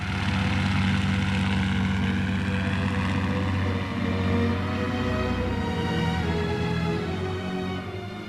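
A ship-launched military float plane with wheels fitted to its floats drones steadily with a loud, continuous propeller engine roar throughout, and no voices.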